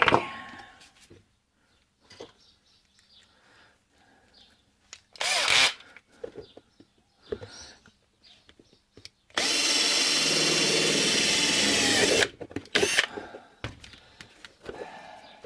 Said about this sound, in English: need to drill a hole through that